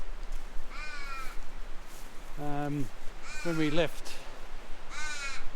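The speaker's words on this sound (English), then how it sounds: "we've got a couple of very curious but smart crows hanging around" Several loud crow caws ring out in short bursts, some near and some a bit farther off, with someone speaking briefly between them.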